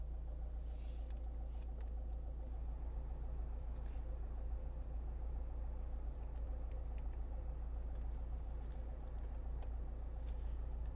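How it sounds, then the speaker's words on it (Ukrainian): An Opel Zafira B with a 1.7 diesel engine idles steadily, a low even rumble held for the whole stretch with no speech. "Двигун працює чітко, помилок немає,"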